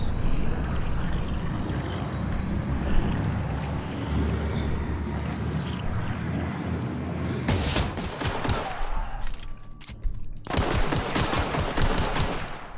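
Rapid gunfire in The Outer Worlds video game, a burst of sharp automatic shots followed by a brief pause and another volley, heard over steady game background noise.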